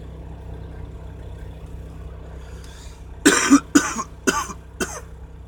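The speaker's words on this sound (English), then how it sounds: "I woke up with a cough this morning." A handful of sharp coughs in quick succession, close by, over a steady low engine-like rumble from an old VW bus, after a quiet stretch.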